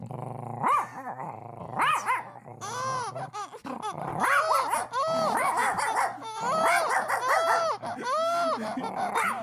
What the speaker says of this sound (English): Good big dog.